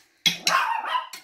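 A dog gives a single short bark that is fairly loud and close, set in a home kitchen while chicken and noodles are being cooked.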